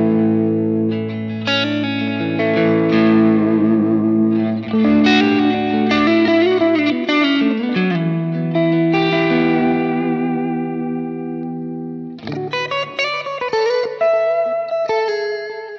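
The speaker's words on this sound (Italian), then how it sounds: "Faccio sentire poi un altro preset, tipo il Chime Kim." Electric guitar through a Line 6 POD Express modeler on its Chime preset, bright ringing chords and picked notes with light drive and echo, loud and alone, easing off briefly before a fresh strummed attack near the end.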